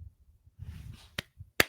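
Two sharp hand claps sound close together, roughly half a second apart, with the second louder, on a hockey talk show set. A low background rumble and muffled noise sit underneath.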